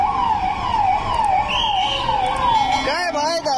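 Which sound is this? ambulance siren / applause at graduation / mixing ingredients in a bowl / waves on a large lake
ambulance siren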